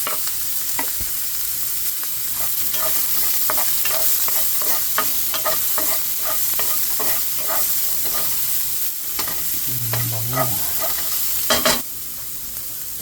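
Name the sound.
garlic sautéing in pan for chicken liver recipe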